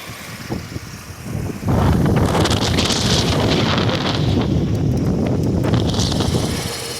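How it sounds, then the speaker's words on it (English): Gusty wind buffets a microphone beside a 2020 Chevy Traverse, loud rumbling that swells after a quieter opening and stays strong throughout, with no one speaking. "the wind's really picking up right now"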